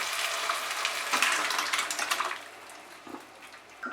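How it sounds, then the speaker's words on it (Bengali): Lentil dal is poured slowly into a pan of fried ginger on low heat, a bright watery sizzle and splash that swells, then fades to a quieter simmer with a few soft clinks. "আদাটা ফ্রাই করে নেওয়ার পর আঁচটাকে একদম কমিয়ে দিয়ে আমি এবারে ডালটা ঢেলে দেব আস্তে করে"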